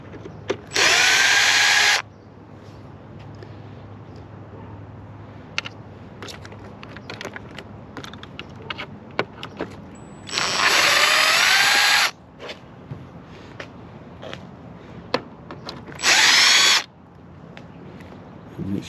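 Screws come out of the plastic dash bezel of a Mercury Cougar under a power driver, three distinct whirring bursts of a couple of seconds each, close and loud, separated by quiet stretches with small handling clicks and taps.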